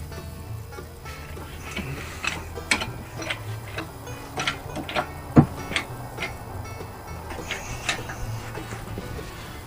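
Ratchet clicks in short bursts tightening a bolt on a 1962 Corvair engine, close and fairly crisp over a quiet workshop background.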